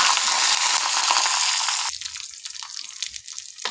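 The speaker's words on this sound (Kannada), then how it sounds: "ಈಗ ಎಣ್ಣೆ ಕಾದಿದೆ. ಜೀರಿಗೆ, ಸಾಸಿವೆ ಹಾಕ್ಕೊಂಡಿದ್ದೀನಿ." Cumin and mustard seeds with garlic and Guntur and Byadgi chillies sizzling in hot oil for garlic rasam, a loud dense frying hiss for the first two seconds that then drops to softer, sparser crackles.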